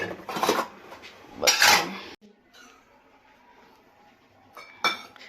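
Metal kitchen utensils clatter and clink loudly in two bursts as they are hung up in a home kitchen. A quieter stretch follows, then one more short, bright clink.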